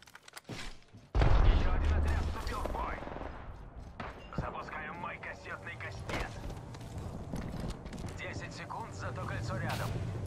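Gunfire in the video game Apex Legends, with a sudden loud burst of automatic shots followed by continued firing and mechanical game sounds, while a voice talks over the action.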